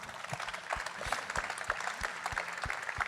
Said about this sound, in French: Alors déjà, applaudissements.